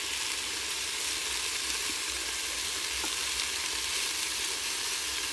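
Meatballs fry in a pan with a steady, close, bright sizzle that continues evenly without pause, and no voices are present.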